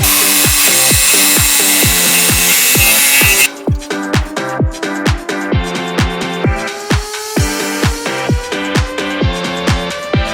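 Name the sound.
angle grinder cutting PVC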